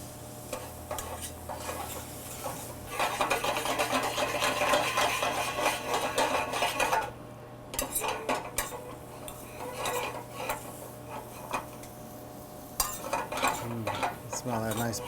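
Smoked pork goes into a pan with its own smoking juices and is broken up with a utensil: steady scraping and clinking of metal on the pan over a soft sizzle, with no talking.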